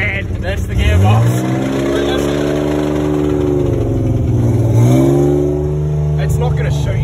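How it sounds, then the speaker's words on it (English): An RB20 Skyline drift car with a worn gearbox runs up close, its engine note rising and falling through a couple of revs over a rough, whining mechanical drone. "you'll hear how bad the fucking gearbox is. Hear it. That's bad. That's the gearbox."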